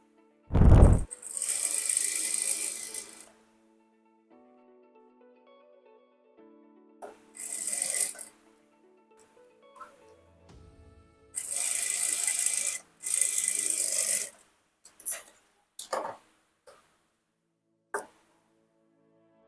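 A stitching machine sews piping onto fabric in several short bursts of rapid mechanical clatter, separated by quiet pauses and small handling clicks, heard fairly close with no talking.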